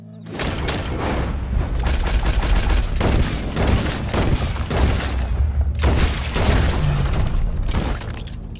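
Gunfire in the video game Red Dead Redemption 2 comes as a rapid barrage of loud, booming shots, repeated blasts and sharp cracks packed densely over several seconds, with a short pause near the end before more shots.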